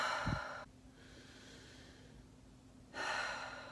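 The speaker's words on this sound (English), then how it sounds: "most of us breathe using our shoulders and our chest" A person demonstrates shallow breathing through the shoulders and chest during an actor's vocal warm-up: a sharp inhaled gasp, then a pause, then a breathy exhale close to the microphone, with no talking.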